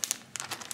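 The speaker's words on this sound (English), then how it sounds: "It's a weird plastic bag." A plastic surgical bag crinkles in a quick run of close, sharp rustles and crackles, bunched into several short bursts.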